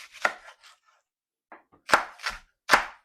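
Knife chopping an onion on a cutting board, a few sharp, close knocks in an uneven rhythm with short pauses between them.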